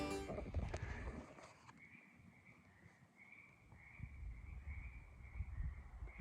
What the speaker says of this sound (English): Feels like spring when the frogs are singing.